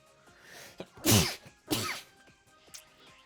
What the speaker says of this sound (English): God damn it, I sneezed and fucked me up.